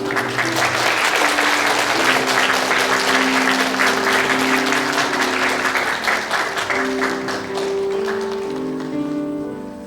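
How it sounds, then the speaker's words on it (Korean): A church congregation applauds loudly and steadily at a baptism service, a dense wash of clapping lasting about ten seconds with a slight fade at the end, while sustained organ or keyboard tones sound beneath it. "인사하실 때 여러분 큰 박수로 함께 해주시면 감사합니다"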